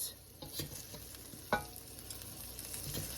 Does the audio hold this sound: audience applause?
no